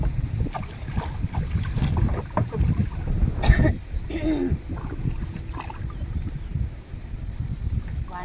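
A small boat paddled through open water on a windy day in Vietnam's Mekong Delta countryside. Steady wind buffets the microphone throughout, with scattered sloshes and knocks of water and hull, and faint voices come through in the background.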